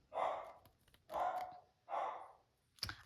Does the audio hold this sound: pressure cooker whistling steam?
no